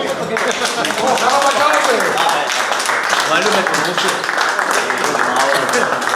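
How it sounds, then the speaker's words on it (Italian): Applause from a gathering of Alpini at their national rally is steady and fairly loud, with voices talking over it throughout. "un applauso a tutti"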